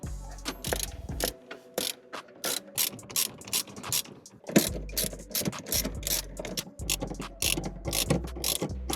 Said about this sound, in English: Now let's bolt the seats back in.